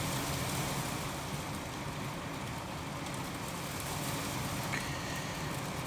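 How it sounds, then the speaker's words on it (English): Heavy rain drums on the metal roof of a bus in Australia, a dense, unbroken hiss and patter that stays loud and even throughout, with no voices over it. "that's some heavy rain going on"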